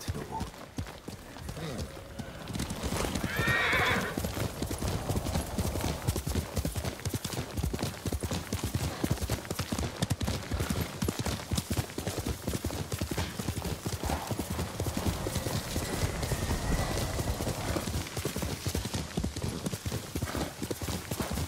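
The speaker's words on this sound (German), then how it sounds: "Komm her, mein Pferd." A horse in the video game Ghost of Tsushima trots and gallops with constant rhythmic hoofbeats and a brief whinny early on, while someone talks over the game audio.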